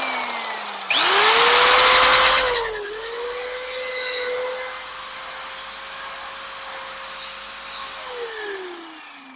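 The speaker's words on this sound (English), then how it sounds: "Now with the buffer, whoops, with the buffer, I'm getting friction, and friction creates heat." A power buffer whirs up to a loud high-pitched whine against a wooden board, holding a steady droning tone with slight dips in pitch as it works across the surface, then winding down.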